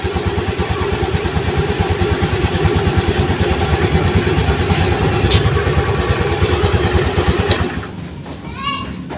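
A Honda Beat FI scooter, prone to sputtering and stalling, runs close up with a loud, steady, slightly clattery idle for several seconds, then drops away abruptly near the end, leaving quieter room sound.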